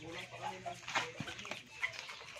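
Young blue-breasted red rooster clucking close by in a backyard coop. There are short, soft clucks and calls mixed with someone talking over them.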